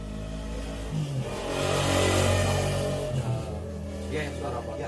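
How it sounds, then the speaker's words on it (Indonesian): Motorcycle engine passing by outside during a podcast recording, rising to a revving peak midway and then fading, with voices talking over it. "Ya, suara motor."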